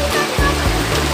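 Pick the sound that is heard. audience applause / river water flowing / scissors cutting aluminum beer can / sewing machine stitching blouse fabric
river water flowing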